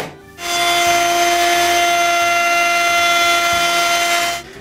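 A router fitted with a half-inch quarter-round bit shapes the front of a wooden intarsia plaque, its steady high whine running loud and close for several seconds before stopping.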